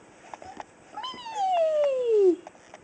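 A kitten gives one drawn-out, falling meow that is loud and close, after a few softer chirps, while a person speaks quietly around it.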